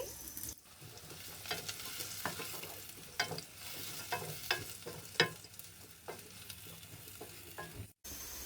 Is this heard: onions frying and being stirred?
yes